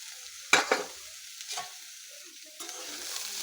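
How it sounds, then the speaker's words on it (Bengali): Fried eggplant pieces being stirred into a pan of cooking mustard greens, with a sharp scrape and clatter of the spoon near the start, softer stirring after, and a faint sizzle running beneath. "বেগুন ভাজাটা দিয়ে দিচ্ছি"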